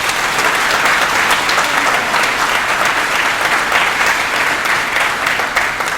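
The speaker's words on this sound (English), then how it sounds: "So I demand the highest of, loudest of applause for Ashwin, please." Conference audience applauding at an AWS Community Day technical event in Kochi, dense sustained clapping that stays loud and even from start to finish with no speech over it.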